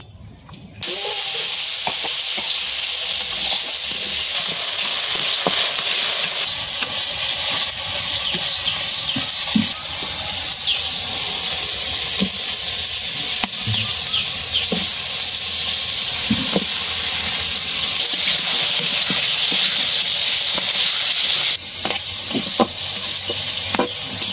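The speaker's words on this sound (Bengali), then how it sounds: "এদিকে হলুদ, লবণ, মরিচের গুঁড়া আর কাঁচা মরিচ আর আদা পেঁয়াজ বাটা একসাথে অনেক কষাই নিলাম" Turmeric, salt, chili powder, green chilies and ginger-onion paste sautéing in a pan, a loud continuous hiss of frying with scraping stirs throughout, starting abruptly after a quiet first second.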